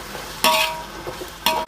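A spoon scrapes through prawns stirred into frying masala in a pot for Nellore-style prawn biryani, with two sharp scraping strokes over a low steady sizzle.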